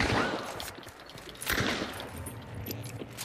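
Gunshots fired at the player in Hunt: Showdown, several sharp distant reports spaced apart amid ambient background noise, fairly faint overall.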